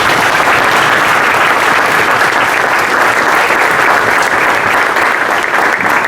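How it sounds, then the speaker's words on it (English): A conference audience at the Fulcrum 2024 consulting conclave at XLRI Jamshedpur gives the panelists a loud, dense, sustained round of applause that fills the whole stretch without pause. "Please give all the panelists of today a thundering round of applause."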